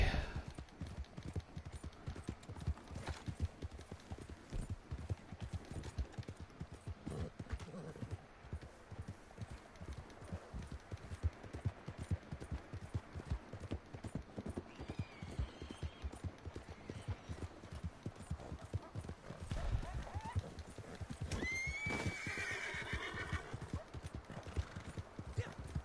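In the Red Dead Online video game, a horse's hooves clip-clop in a quick, steady rhythm, with a whinny rising near the end while someone talks over it.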